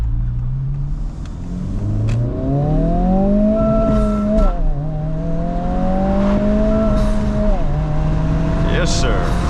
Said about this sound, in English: I know you guys like that turbo sound.